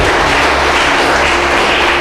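A church congregation applauds in steady, dense clapping that fills the room evenly without a break.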